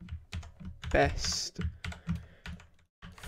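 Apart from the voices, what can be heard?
typing a mod name on a computer keyboard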